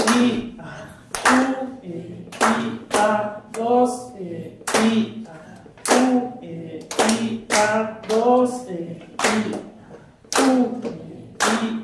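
Sharp hand claps in a steady rhythm during a children's music class, close and distinct, alternating with a voice chanting rhythm syllables over them.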